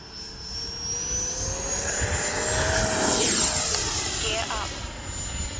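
An FMS Viper RC model jet airplane flies overhead with a high, steady turbine whine that rises and falls as it passes, loud and close. The engine sound carries on unbroken throughout.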